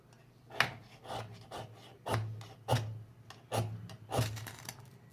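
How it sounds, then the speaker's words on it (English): A ferrocerium rod is scraped against jute firestarter, producing about eight rhythmic rasping strokes, close and fairly quiet, each a short gritty scrape with a low rub beneath. "It's all the ferrocerium that I scraped into"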